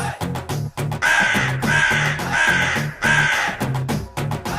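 Voices imitate crow caws in a Tamil comedy cartoon, loud, nasal, repeated "ka ka ka" calls coming in quick rhythmic bursts with short gaps between them.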